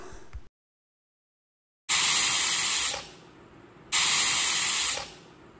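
A pressure cooker holding chicken with water and salt vents steam in two loud, sharp hissing blasts, each lasting about a second before fading into a softer hiss, after a stretch of silence.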